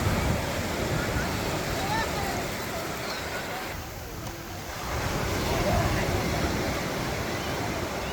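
Sea waves roar steadily at Kuakata beach, a broad continuous wash of surf with wind buffeting the microphone, dipping briefly in the middle before swelling again.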